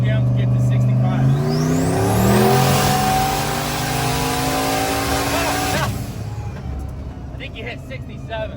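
A 426 Jeep Trackhawk is driven hard, its engine climbing loudly through the revs in a rising, close roar that peaks and then cuts off sharply, as people in the car talk over it.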